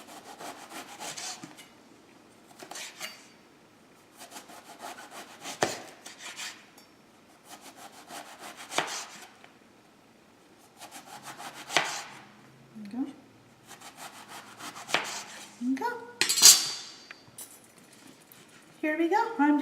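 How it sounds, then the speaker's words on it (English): A knife slices eggplant on a cutting board in repeated bursts of short rasping cuts separated by pauses, fairly close, with a person talking in between. "But this is a little thick, so we have to slice it again."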